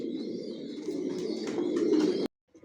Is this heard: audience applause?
no